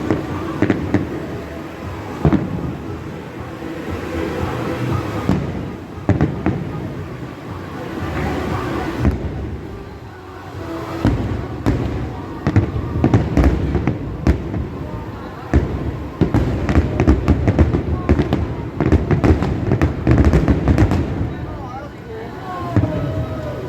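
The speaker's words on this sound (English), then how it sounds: "That concludes the fireworks display." A fireworks display at Disney World's Contemporary area booms and crackles for over twenty seconds, a dense run of loud bursts and rapid pops, with people talking among the crowd.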